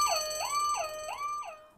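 Electronic alarm siren effect, a loud wailing tone repeatedly sweeping up and down in about four quick cycles, alone and fading slightly at the end.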